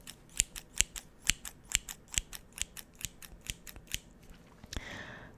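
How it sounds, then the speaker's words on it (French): Scissors snip repeatedly in a quick, even rhythm, about a dozen sharp close cuts opening Pokémon card booster packs, followed by a brief rustle at the end. "Donc je me suis armée bien entendu des ciseaux"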